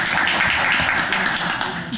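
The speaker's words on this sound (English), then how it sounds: "let's give them a round of applause" A round of applause fills a fire merit board meeting room, dense overlapping hand claps from a modest group, steady and close, with no talk over it.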